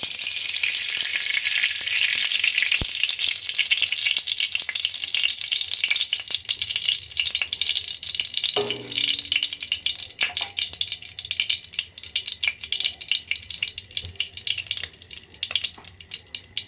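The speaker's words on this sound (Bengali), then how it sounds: "এখন আমি কড়াইতে ঘি দিয়ে দেবো।" Ghee sizzling in a hot kadai for carrot halwa, a steady loud crackling hiss throughout that eases slightly toward the end, with a sharp tap of a utensil near the start.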